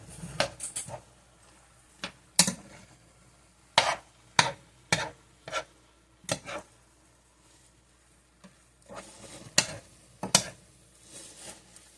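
A spoon knocks and scrapes against a bowl while food is mixed for a Christmas side dish, giving a dozen sharp, irregular clicks separated by quiet gaps.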